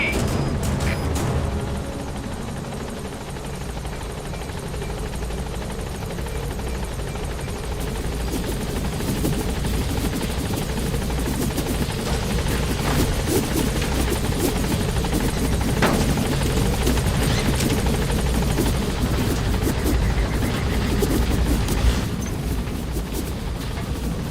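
In the video game Metal Gear Solid V: The Phantom Pain, a helicopter gains altitude with a loud, rumbling rotor roar that swells and holds steady, with a few sharp thuds and cracks breaking through.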